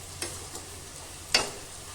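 Red chili and turmeric powder hit hot oil for a chicken curry, giving a low simmering hiss with a couple of brief crackling bursts, one sharp near the end.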